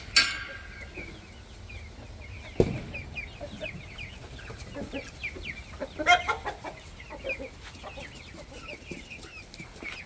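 Brahma hens and a rooster cluck continuously nearby in a farm coop, with many overlapping soft calls and a couple of louder squawks and bumps, no talking.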